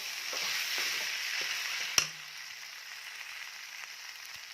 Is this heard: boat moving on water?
no